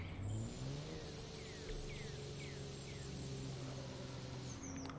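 Engine of a 1993 Porsche in The Crew 2 racing game, a steady droning hum with repeated rising whines as gears shift, moderately loud and continuous.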